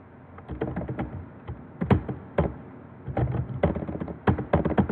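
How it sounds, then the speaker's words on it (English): Fingers typing on a computer keyboard, quick bursts of key taps with brief pauses between groups, close and clear with no talk. "So I'm going to hit enter, space bar twice, and type the following."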